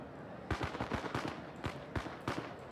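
Firecrackers thrown into a crowd in the riot game Riot Civil Unrest pop in a rapid irregular string of sharp cracks, fairly faint and distant, with several quick bursts spread across the moment.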